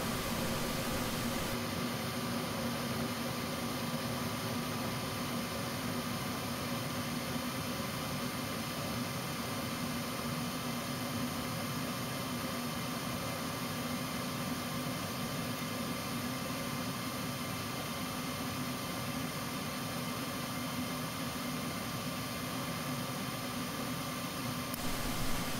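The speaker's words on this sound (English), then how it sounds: "Then the main burner comes on." A gas furnace's main burner runs with a faint, steady, broadband roar, low and continuous throughout, with a thin high-pitched whine over it.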